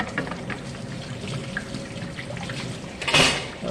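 Water runs from a tap as a steady, close hiss, rising briefly into a louder gush near the end.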